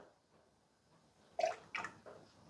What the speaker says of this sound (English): So let's just add a very, very small amount of water.